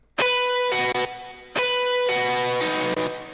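Two distorted electric guitar chords ring out one after another, each sustaining with a washy reverb tail.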